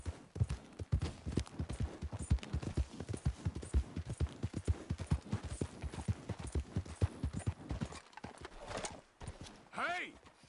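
Horse hooves clip-clop in a quick, steady rhythm on a hard surface in Red Dead Redemption 2, close by, then slow and stop, followed by a brief snort.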